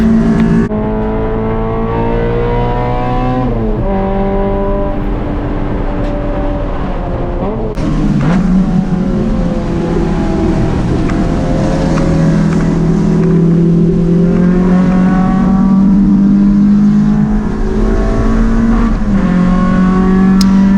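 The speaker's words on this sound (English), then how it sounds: "So Troy's hatch is powered by a B20 block with a B18 head, C1 GSR, and skunk 2 headers with custom exhausts and S300 V3 to control everything." A B20 VTEC EF Honda Civic hatch with a B18 head, Skunk2 headers, custom exhaust and an open diff races hard on track. The engine roars loud and steady, revs climbing and dropping through gear shifts.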